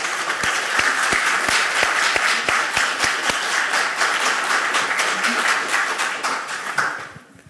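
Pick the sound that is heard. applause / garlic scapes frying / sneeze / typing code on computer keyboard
applause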